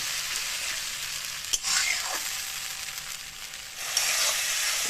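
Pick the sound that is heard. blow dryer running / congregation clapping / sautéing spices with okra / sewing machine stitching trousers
sautéing spices with okra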